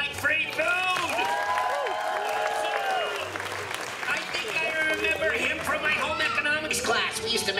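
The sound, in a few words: people clapping for free churros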